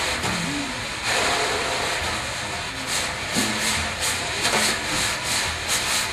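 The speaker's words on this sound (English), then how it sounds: "I like to play brushes on all the drum heads: small tom, floor tom" Jazz drum brushes swept and tapped across the heads of a small tom and a floor tom in a ballad style, a soft continuous swishing with gentle accents, close and alone.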